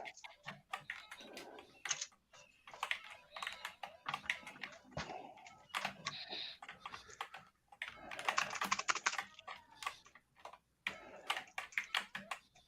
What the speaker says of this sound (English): And then we've got our nice little Alps keyboard.